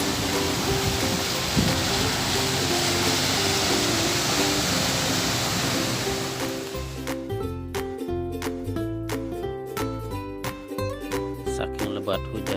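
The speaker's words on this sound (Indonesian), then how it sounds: "Saking lebat hujannya guys, sampai jarak pandang cuma beberapa meter saja guys, tidak sampai 1 meter." Heavy rain pouring during a flash flood in Saudi Arabia, a dense steady roar for the first half that gives way to broken, clattering impacts and drips as the downpour shifts.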